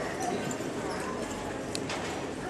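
Police horses clip-clop on hard ground during a mounted troop drill at an open day, hoofbeats faint and distant beneath steady crowd and outdoor ambience.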